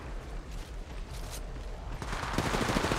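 Gunfire in the video game Apex Legends, a dense flurry of rapid shots that intensifies into a fast, loud, rhythmic burst toward the end, with no talking.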